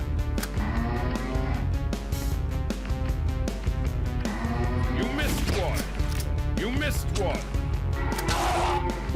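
Cattle mooing in the shooter video game Culling of the Cows: a steady stream of loud, overlapping cow moos with game sound effects and crashes, while someone talks over them throughout.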